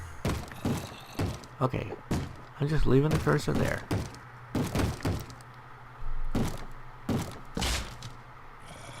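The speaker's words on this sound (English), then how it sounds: "that guy's still banging on my door?" Repeated hard thumps of someone banging on a door in Minecraft, sharp percussive knocks in irregular bursts across the clip, with someone talking over and between them.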